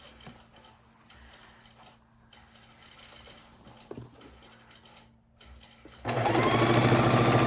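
Sewing machine stitching a quarter-inch seam on a four-fabric quilt; faint handling noises and quiet pauses give way to a loud, steady motor whir bursting in near the end, with no talking.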